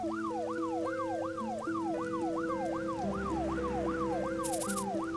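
An ambulance siren in the video game Troubleshooter wails up and down in a fast, regular cycle, loud and continuous, over steady sustained background tones.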